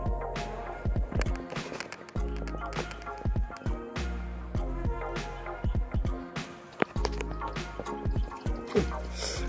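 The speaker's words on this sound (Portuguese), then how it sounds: "Aqui é só quando a isca cai na água." Fishing bait drops into water and fish strike at it, giving repeated sharp splashes and plops in uneven bursts against a churning watery background.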